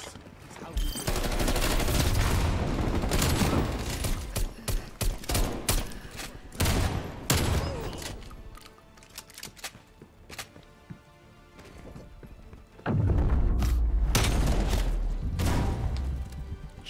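Shotgun and gunfire in the video game Call of Duty Black Ops Cold War, loud dense volleys of blasts with a quieter stretch in the middle before heavy firing resumes.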